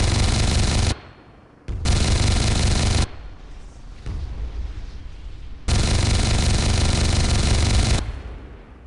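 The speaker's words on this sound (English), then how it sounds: "take out the first target" Helicopter cannon in the video game Comanche 4 firing at a target in long, loud, rapid bursts of gunfire separated by brief gaps of engine and ambient noise, with no voices.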